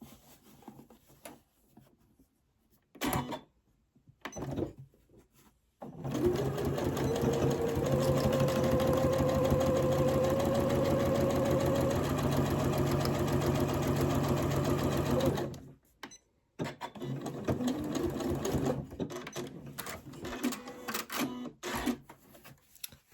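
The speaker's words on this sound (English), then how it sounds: "So I've sewn down one side now, I'm going to do the other side" A sewing machine stitches down the side of a fabric fidget toy, running a steady mechanical whir for about ten seconds between quieter fabric handling and short bursts of stitching, close and moderately loud.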